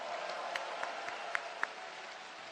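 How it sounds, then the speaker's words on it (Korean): Audience applause at a Democratic Party primary rally in Chungcheong, faint and distant, a low steady patter with a few sharper individual claps popping out. "뜨거운 박수 부탁드립니다"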